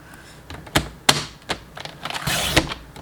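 A paper trimmer slices cardstock along a score line, a few sharp clacks and taps from the blade and base followed by a brief scraping slide, close and clear.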